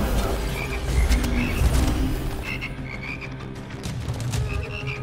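Frogs croak in the video game Immortal Redneck, a steady run of repeated close croaks layered over a lava-level ambience, with no talking.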